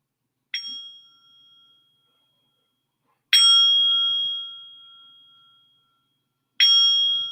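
A meditation gong is struck three times, spaced a few seconds apart. Each stroke rings out clearly with a bright, sustained tone that slowly fades, with no other sound around it.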